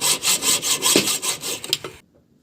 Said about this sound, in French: Nous finissons la coupe du pot à la scie parce que le coude gêne la meuleuse.